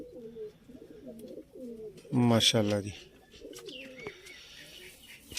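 Soft coos of Babe Noordin quail-type pigeons repeat in low rolling phrases nearby, briefly interrupted by someone speaking a couple of words over them.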